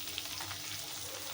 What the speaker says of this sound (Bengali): শিমটাকে ভাজিয়ে নিই